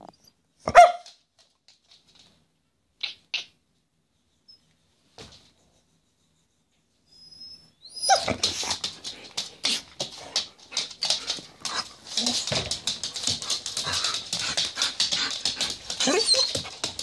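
During grooming, a dog lets out a few sharp isolated yelps, then after a quiet stretch a long, busy run of rapid barks and whimpers, close and fairly loud.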